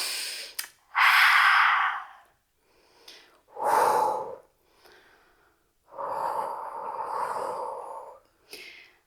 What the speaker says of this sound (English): a few more breaths